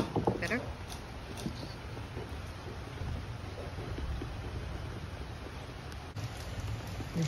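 Rain falls steadily during an outdoor meal in China, a soft, even wash of patter throughout with faint background sounds mixed in.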